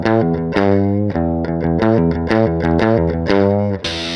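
An electric guitar through a stock Boss DS-1 distortion pedal, with volume and distortion at full and tone at halfway, plays a quick run of loud, buzzy distorted notes close up, ending on a brief pause.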